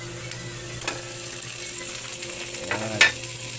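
Ground meat browning in a hot pan for Filipino batchoy, giving a steady close sizzle and frying hiss with a few light stirring scrapes and a brief clink near the end.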